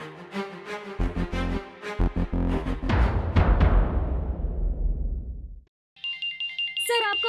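A telephone rings in a Hindi TV drama, its tonal electronic ringtone repeating in quick bursts over dramatic background music, then briefly falling silent before resuming; a phone is announced as calling from home.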